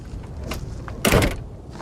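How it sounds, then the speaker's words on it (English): A single muffled door thump, a short burst of broadband noise in an otherwise quiet room with low background hum. "The door?"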